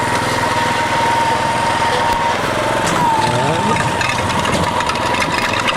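A Toro Greensmaster 1600 reel mower runs steadily up close, its small engine droning and the reel whirring in a continuous loud hum with a brief pitch shift midway, no voices.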